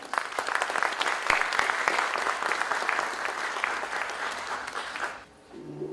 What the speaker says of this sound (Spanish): Voy a pedir que recibamos con un fuerte aplauso